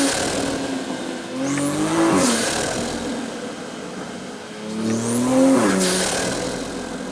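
A Toyota Supra fitted with a cold air intake revs hard twice, each sharp rising rev surging to a howl and falling back, close and loud over a steady idle with no talking.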